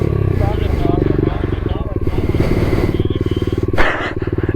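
A pit bike engine idles and putters loudly close by in a driveway, its rapid pulsing chug running throughout while people talk over it.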